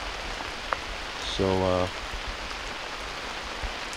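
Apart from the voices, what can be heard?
rain falling on a campsite in the woods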